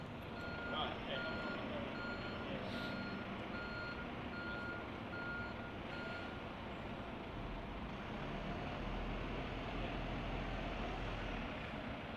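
A reversing vehicle behind Bristol bus station gives a steady series of evenly spaced electronic beeps over a continuous roar of traffic and engine noise.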